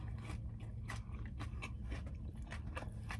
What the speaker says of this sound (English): So much crunch, y'all.